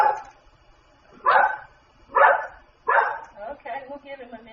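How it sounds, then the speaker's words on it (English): A dog barking indoors, three loud woofs spaced about a second apart followed by softer, quicker yips and whines, close to the listener. "There's my dog."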